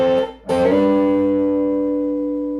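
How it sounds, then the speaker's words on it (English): Electric guitar in G playing thirds off an E-shaped barre chord: a quick strum, a brief gap, then a sharp attack whose bright, sustained tones ring out and slowly decay, close and alone. "So my thirds are going to sound like this."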